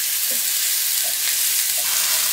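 Ginger and garlic paste frying in a pan, a steady close hiss and sizzle throughout with faint stirring clinks, no voices.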